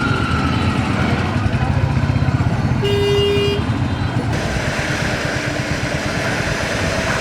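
Amid dense rainy traffic of auto-rickshaws and CNGs on a Cox's Bazar road, a Royal Enfield Hunter 350 engine rumbles steadily while one clear horn toots for under a second midway, with talk audible.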